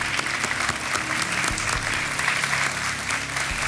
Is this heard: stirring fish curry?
no